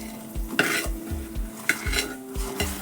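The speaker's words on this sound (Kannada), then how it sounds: "ರವಾನ ಹಾಕ್ತಾ ಮಿಕ್ಸ್ ಮಾಡ್ತಾ ಹೋಗಬೇಕು, ಇಲ್ಲಾಂದರೆ ಗಂಟು ಆಗಿಬಿಡುತ್ತೆ" A spoon stirring semolina (rava) into pineapple kesari bath in a pan on low flame, with rhythmic scraping strokes against the pot, a soft bubbling sizzle underneath and no talking.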